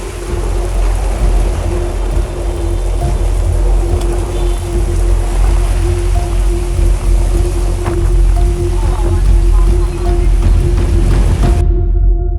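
Heavy rain pours down on a Manila street, a loud steady broadband roar with a faint hum beneath, continuing without talk until it cuts off near the end.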